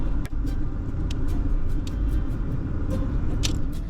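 A Mercury Colony Park LS station wagon with original low mileage drives along, its steady engine and road rumble filling the interior at close range with a few faint clicks and bumps on top.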